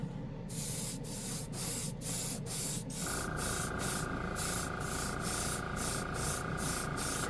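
An airbrush spraying metallic paint gives a soft, steady hiss, with a small compressor kicking on partway through and humming continuously underneath in close, quiet surroundings.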